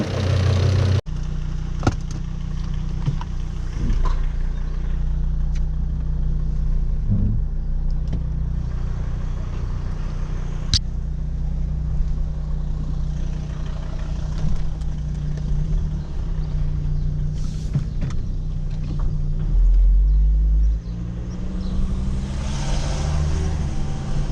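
Volvo XC70 D5 diesel engine running after a high-pressure fuel pump replacement, a steady low hum inside the car with faint clicks and rustles, no talking.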